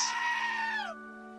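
A video game goat lets out a single loud, drawn-out scream-like bleat lasting about a second, over a faint steady background tone.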